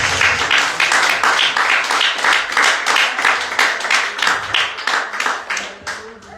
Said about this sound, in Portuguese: Então, Verônica, você pode aplaudir o Senhor por isso?